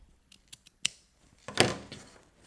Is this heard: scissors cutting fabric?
yes